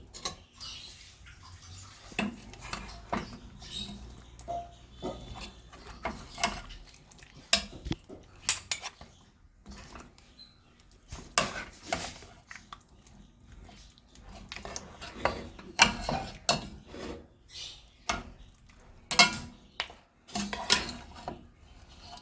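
A spoon scrapes and knocks against a pan while curry is stirred for eenth pidi, with irregular metallic clinks and scrapes coming in bursts, close and moderately loud, separated by quieter gaps.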